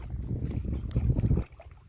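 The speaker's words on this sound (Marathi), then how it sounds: "हे बघ चालली होडी बघ चिखलावर." A wooden boat is pushed across mud flats, making a short, rough, low scraping rumble up close that drops away abruptly, with some wind noise.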